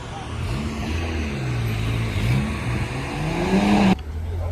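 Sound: BMW Z3 car driving into a night classic car meet

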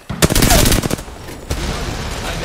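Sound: gunfire in video game Apex Legends

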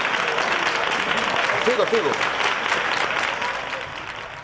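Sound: audience applause for a magic trick

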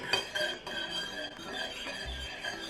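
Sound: stirring Thai corn pudding batter in a pot

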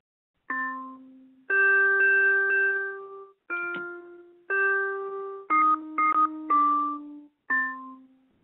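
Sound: bells clanging

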